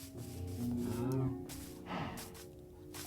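A cow moos twice in Minecraft Pocket Edition, low drawn-out calls with a slightly synthetic quality, the second shorter, over quiet background.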